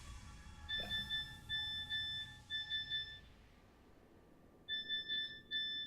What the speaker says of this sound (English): Yep, that is my text alarm.